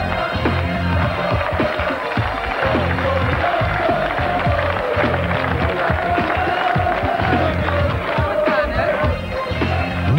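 Crowd at a Dutch strongman competition prize ceremony applauds and cheers in a continuous loud wash of clapping and voices, with a low rumble underneath throughout.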